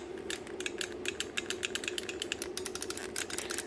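QuickShot joystick for the NES clicking rapidly, a dense series of sharp plastic clicks in uneven bursts, close and fairly loud with no voices.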